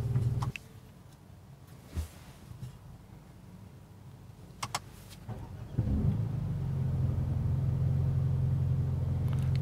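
2019 Mercedes-AMG A35 started from cold: a few short clicks and bumps, then the engine catches with a brief surge and settles into a steady, loud low idle rumble for the final seconds.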